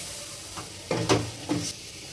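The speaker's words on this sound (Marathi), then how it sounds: "मसाला चांगला परतून झालाय त्यामुळे मी आता अंडे सोडत आहे त्यात।" Eggs dropping into hot fried masala for a village-style egg curry, giving a few short sizzling bursts of hiss close by over a quiet kitchen background.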